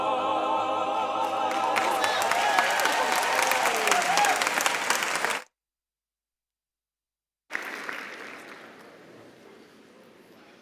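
Audience at a university graduation ceremony clapping for the choir, loud and dense at first over fading singing and cheers, then a sudden silence before quieter applause resumes and tapers off.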